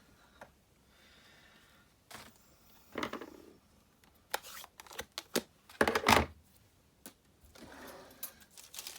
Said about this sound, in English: I'm just going to pop that into my trimmer and cut it to size.